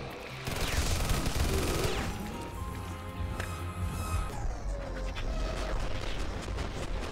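Creatures called bombard beetles fire continuously in the video game Wrought Flesh, making a dense, steady barrage of overlapping blasts and crackles that lasts throughout without letup.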